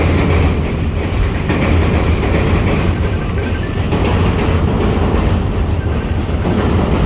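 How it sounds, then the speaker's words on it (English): A loud train rumbles past close by at night in downtown Chicago, a steady heavy roar with rattling wheels and clatter filling the whole stretch, no voices. "And the loudest train right behind us."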